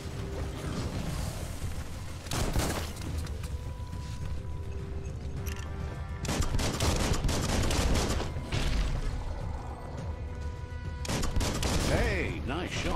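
Gunfire in the video game Biomutant comes as a few sharp, broadband bursts spaced several seconds apart, loud and close, between quieter stretches of game ambience.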